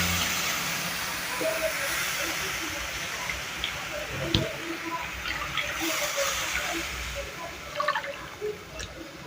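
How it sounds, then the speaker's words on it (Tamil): Water poured into roasting semolina for rava kesari sets off a loud, steady hiss of steam that lasts the whole stretch, with a few faint drips and clinks on top. "இப்போ தேவையான அளவு தண்ணியை ஊற்றிக்கலாம் எந்த கப்ல ரவை எடுத்தமோ அதே கப்ல ஒரு மூணு கப் அளவு நான் தண்ணியை ஊத்திக்கிறேன்"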